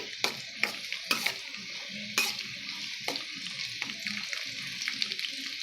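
Onions sizzle and fry in a pan for egg biryani, a steady broad hiss broken by sharp scraping stirs every second or so, close and alone without voices.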